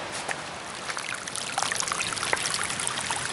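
Rainwater pours down a rocky stretch of the Appalachian Trail, a continuous rushing trickle with small splashes that grows slightly busier partway through, nearby and unaccompanied by talk.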